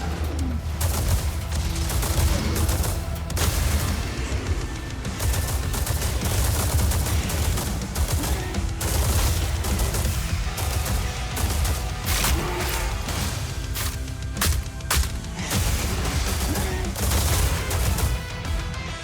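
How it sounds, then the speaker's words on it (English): Burst-fire gun in the rhythm shooter Metal: Hellsinger, rapid shots cracking over a dense, loud backdrop of game music and effects that runs throughout. "Oh, and it bursts. Literally does a burst fire."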